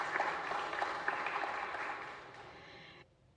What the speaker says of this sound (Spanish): Un aplauso para los del grupo del movimiento Xuesta.